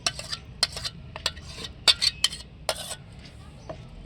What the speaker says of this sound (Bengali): বন্ধুরা, এবার আমি ভালো করে ছেঁকে নেব।